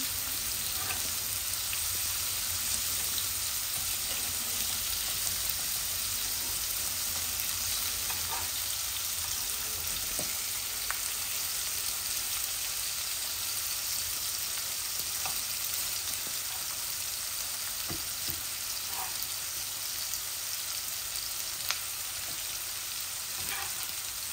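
Tilapia fish frying in a little oil while being turned in the pan, a steady close sizzle with faint scraping and occasional soft clicks from turning, continuous and without talking.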